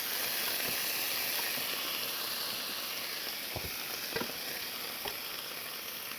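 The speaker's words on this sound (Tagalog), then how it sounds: "Tapos guys, ilagay na natin ang ating spare ribs." Spare ribs sizzling in a pan with onion and garlic for kaldereta, a continuous hiss of frying with a few soft stirring knocks near the end, no voices.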